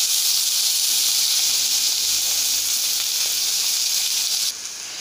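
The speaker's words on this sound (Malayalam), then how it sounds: "ഇതിലേക്ക് നമ്മുടെ എടുത്തു വച്ചിരിക്കുന്ന ഉള്ളി ഇട്ട് കൊടുക്കുകയാണ്." Onions frying in a pan give a loud, continuous sizzling hiss close up, steady throughout with a slight drop just before the end, with no talk.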